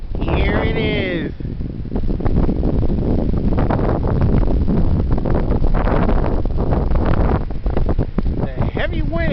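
Heavy wind in an open space, roaring steadily and loudly against the microphone for the whole stretch, with a voice speaking briefly at the start and end.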